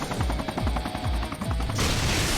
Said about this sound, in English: that's what I mean about being inside the explosion